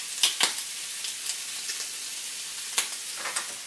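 Ham slices sizzle in a hot pan with a steady, close frying hiss, broken by a few sharper spits and crackles and the occasional stir, no voices.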